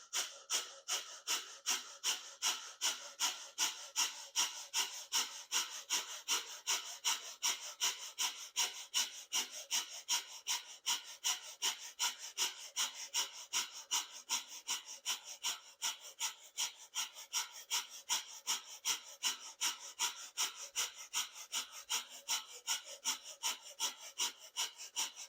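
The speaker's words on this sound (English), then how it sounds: "we're going to do breath of fire here for about 30 seconds" Rapid breath of fire exercise during a workout: forceful, evenly paced nasal exhales, about two per second, sustained and steady for the whole stretch with no talking.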